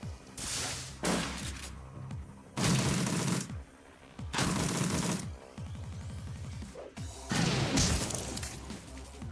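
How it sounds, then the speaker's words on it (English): Heavy explosive blasts from a grenade launcher in the final battle of Shadowrun: Dragonfall, several loud broadband bursts in succession with crashing debris and rumbling decay between them, no talking. "he's hitting with his grenade launcher"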